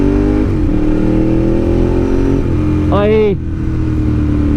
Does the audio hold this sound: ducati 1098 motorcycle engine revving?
yes